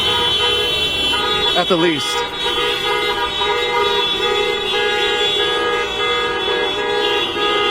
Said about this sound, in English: We're talking about a full block that these cars are going around and continually circling.